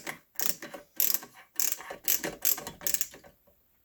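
Screws tightened in short rhythmic ratcheting bursts, about nine clicks in a steady pattern, while a tower CPU cooler is fitted on an AMD system. Close and moderately loud, with no talk.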